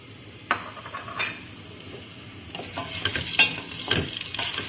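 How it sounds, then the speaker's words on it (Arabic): Onion poured into hot oil in a pan for Tunisian couscous with chard, with a few clinks and stirs at first and then a sizzle that swells and stays fairly loud. "دونك الزيت نتاعنا سخن، نصبوا كميه البصل"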